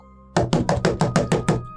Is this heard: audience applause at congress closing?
no